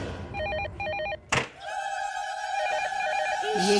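A telephone rings in a Hindi TV serial scene, giving two short bursts of bright electronic trills, then a sudden thump and a steadier tone that continues to the end.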